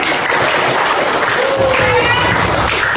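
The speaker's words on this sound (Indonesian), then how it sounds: "tepuk tangan dulu, selesai" Classroom applause follows a group's turn, a steady dense wash of many students clapping together, fairly loud and continuous throughout, with a faint voice rising briefly in the middle.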